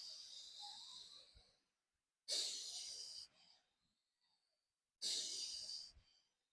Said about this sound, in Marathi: असा पूर्ण श्वास भरायचा.